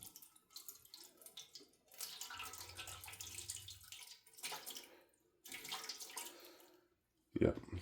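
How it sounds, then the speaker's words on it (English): Hot water at least 150 degrees is poured into a baking tin for a Japanese cheesecake water bath, a soft splashing trickle that comes in bursts and pauses, fairly quiet and close. "I'm going to take my hot water that's at least 150 degrees and pour it into my baking tin."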